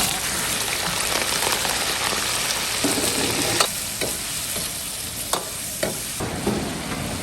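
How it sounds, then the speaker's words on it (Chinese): Chicken stir-fried in a wok, a loud continuous sizzle with sharp metallic spatula clacks scattered through it, close up. "鸡先下锅炒。"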